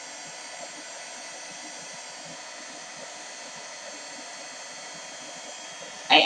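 A heat gun blowing hot air while crafting mini wood doll snowglobes, a steady, fairly quiet broadband hiss and whoosh that runs unbroken throughout, with a brief louder burst at the very end.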